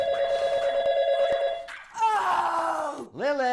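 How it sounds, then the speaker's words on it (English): A steady electronic telephone ring sounds for a couple of seconds, then a voice groans and speaks loudly. "You know, Lilith, your phone is ringing."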